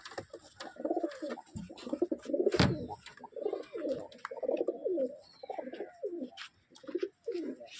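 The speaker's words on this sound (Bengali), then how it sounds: "আবলুক পায়রাটা আপনাদের ধরে দেখাচ্ছি।" An Ablook pigeon coos in a loft, a run of soft, throaty, repeated coos close by, with faint chirps from other birds behind.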